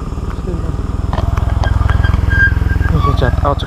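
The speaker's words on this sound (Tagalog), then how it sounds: "Yan may mga motor." Motorcycles pass by on a rural road, a close, steady engine drone with a pulsing rhythm that fills the whole stretch while someone speaks over it.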